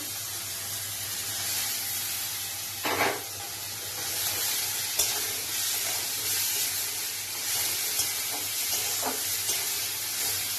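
Tomato paste sizzles in a pan of katla fish kalia, a steady close frying hiss with occasional stirring scrapes and small bursts throughout.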